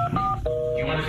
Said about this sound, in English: So anytime you would try to call the phone line, right, the line would be busy.